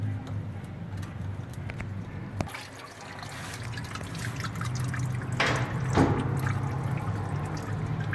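Old, flushed engine oil drains from a Subaru Legacy in a continuous trickling pour, with a sharp tap partway through and the flow swelling louder toward the end, while people talk faintly in the background.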